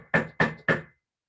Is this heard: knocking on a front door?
yes